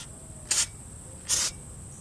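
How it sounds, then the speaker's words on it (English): Brake cleaner sprays onto a 2009 Jeep Patriot Sport brake rotor in two short, sharp hissing bursts about a second apart, close by against a quiet background. "I'm going to spray and wipe down the rotor a little bit with the brake cleaner"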